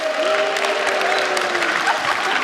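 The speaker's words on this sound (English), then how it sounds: "Give them a big round of applause." Audience applause fills a church service, a steady dense wash of clapping with a faint sustained tone running beneath it, loud and continuous throughout.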